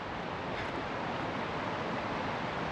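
Water rushing along a brook beside Washington's Highway 2 near Eagle Falls and Deception Falls, a dense, steady broadband hiss with no breaks, fairly close and unbroken by voices.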